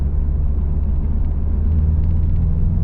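A Chevrolet C5 Corvette V8 lugs along at about 1,000 RPM in fifth gear near 27 mph, giving a steady, deep, close engine rumble inside the cabin with no voices.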